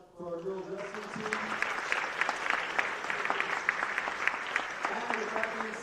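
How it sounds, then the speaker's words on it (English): An audience gives sustained applause for a girls wrestling team at a proclamation ceremony, many hands clapping in a dense, steady roar that starts right after a brief spoken voice and continues evenly to the end. "So another big round of applause for our girls wrestling team."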